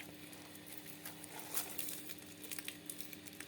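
A plastic bag of liquid soap is handled nearby, giving faint, irregular crinkles and soft pattering rustles with no talking.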